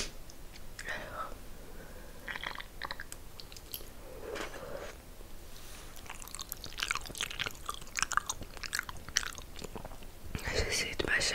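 Wet, close-miked chewing and soft crunching of spicy noodles, intermittent and squishy, with whispered speech mixed in between bites.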